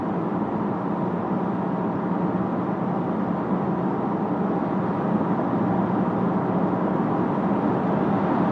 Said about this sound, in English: Low to medium levels of road noise. A little bit of wind noise coming around from the side mirrors.